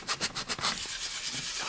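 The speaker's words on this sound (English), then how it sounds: "Sanding." Hand sanding of 3D-printed armor pieces, quick rhythmic rasping strokes at first, about five in a row, then a steadier softer scrubbing, close up with no talk.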